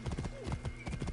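A galloping horse in Assassin's Creed Origins, rapid rhythmic hoofbeats thudding in quick clusters, close and steady, with a faint voice-like tone drifting across.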